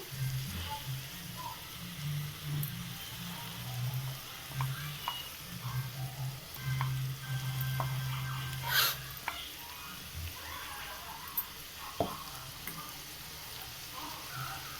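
Ground paste is added to a hot pan for veg biryani, giving a soft, steady sizzle and frying hiss with occasional stirring clatter and light scrapes, fairly quiet throughout.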